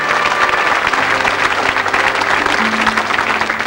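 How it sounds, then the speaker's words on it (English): A studio audience at the 1985 game show 3-2-1 gives loud, sustained applause for departing contestants from Gloucestershire, with studio music audible beneath the clapping. "Give them a round of applause, folks"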